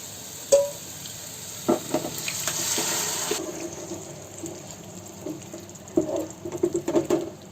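Cooked pumpkin is tipped into a pan of fried spices and stirred, with a wet splash and sizzle, scraping spoon strokes, and a burst of quick stirring clatter toward the end, close and moderately loud.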